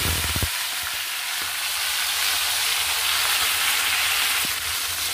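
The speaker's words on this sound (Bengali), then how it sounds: "এবার আমি ম্যারিনেট করা চিকেনটা কড়াইতে দিয়ে দেবো" Marinated chicken sizzles loudly and steadily in a hot kadai, a dense continuous frying hiss with a few stirring knocks near the start and no voices.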